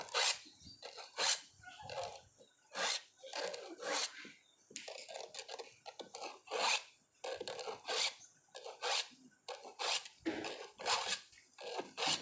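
Hand saw with a dull blade cutting wood up close, rhythmic rasping back-and-forth strokes, roughly one per second, loud and steady.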